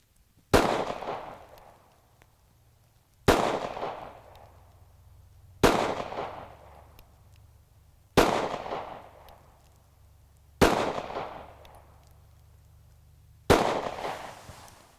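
A SCCY CPX-2 pistol fires six sharp, loud gunshots, spaced about two and a half seconds apart, each followed by a short ringing decay outdoors.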